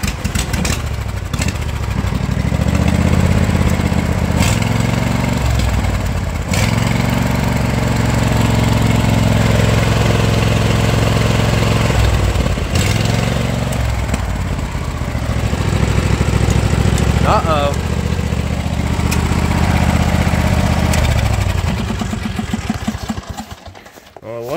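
A rebuilt Craftsman small engine runs steadily and loudly with choke, its drone rising and falling as it is revved, with occasional sharper bursts, continuous and close for the whole stretch.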